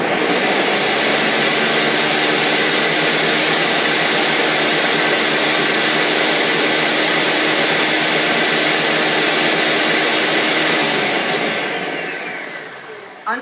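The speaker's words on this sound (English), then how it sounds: "so then I want to blend this" A blender runs with a loud, steady high-pitched motor whir for about eleven seconds, then winds down and stops near the end.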